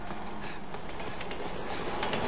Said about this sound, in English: Train's coming! Get against the wall!